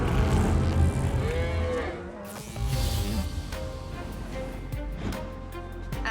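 Several cows moo loudly and close by, long drawn-out calls overlapping one another against a noisy outdoor herd background.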